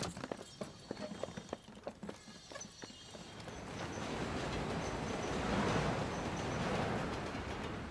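A horse-drawn buggy moves down a town street. Crisp hoof clip-clops ring out rhythmically at first, then give way to a louder, steady rolling rumble of wheels.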